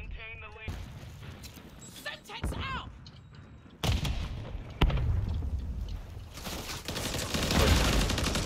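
Video game gunfire rattles in bursts and single shots, with loud cracks and explosions mixed in among other game effects.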